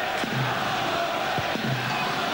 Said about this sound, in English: You can tell the noise in the crowd suggests that too